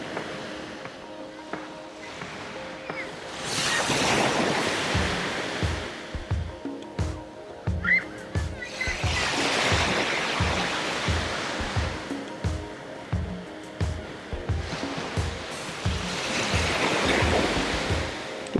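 Ocean waves break on the shore in slow surges, each swelling to a loud wash and then fading, under soft background music with no speech.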